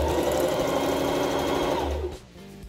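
A sewing machine runs steadily stitching the hem of a fabric kitchen apron, a loud continuous motor whir with rapid needle rhythm that stops just before the end.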